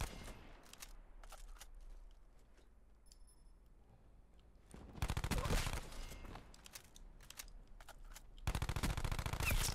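Rapid automatic gunfire in Black Ops 4 hardcore team deathmatch, heard as dense bursts of sharp shots that start after a quieter stretch and then continue in long, loud strings.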